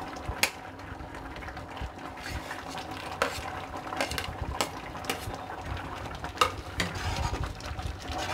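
Semiya kesari with sugar and dry fruits cooking in a pan while being stirred continuously, a steady soft sizzle with scraping and light clinks of the spoon, close and alone without talk.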